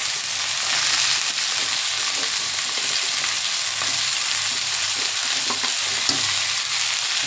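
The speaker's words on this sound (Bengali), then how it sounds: "পেঁয়াজ রসুন ভাজা হচ্ছে" Mixed vegetables with onion and garlic fry over a dried red chilli tempering, making a continuous close sizzle. Scraping stirs recur throughout, and nobody speaks.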